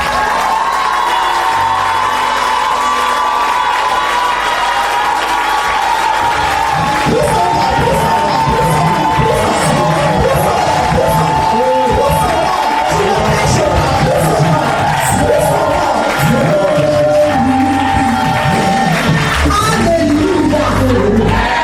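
Congregation at a church service cheering and shouting in praise, a dense roar of many voices with whoops and yells that swells after a few seconds and stays loud throughout.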